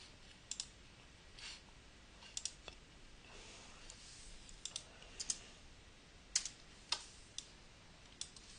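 Several quiet mouse clicks while exporting a file in the Adobe Fireworks graphics program, sharp isolated ticks scattered irregularly over low room hiss.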